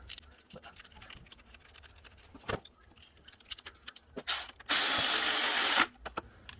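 A ratchet tightens a 10 mm bolt during alternator installation on a 2012 Toyota Camry 2.4L, with quiet clicks and small mechanical clatter and taps, then a loud burst of broadband noise near the end.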